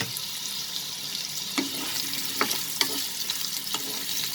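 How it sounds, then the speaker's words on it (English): Potatoes fry hard over a high flame for a prawn and potato curry, a steady loud sizzle broken by a few sharp spatters and stirring clinks, with no voices. "Just let us fry these potatoes over high flame, friends."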